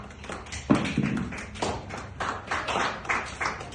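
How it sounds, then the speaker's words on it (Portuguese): A church congregation claps their hands in praise, a scattered, irregular patter of many hands at moderate distance, rising in bursts and then settling. "E quem está inteiramente consagrada, bata salvas de palmas pela glória do Senhor."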